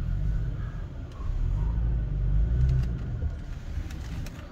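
A 2022 Toyota Tacoma TRD Pro idles and creeps in reverse through woodland off-road, with a low engine rumble that swells gently and falls back, close up and steady, along with faint crunching and no voices.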